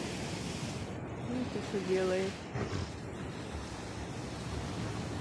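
Stormy sea surf breaking on a shore, a broad continuous wash of waves with wind, loud and close, while someone talks over it.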